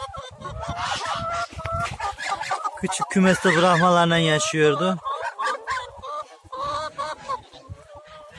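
Village geese honk loudly and close in a noisy flurry of repeated calls, with chickens clucking around them and a person speaking briefly near the end.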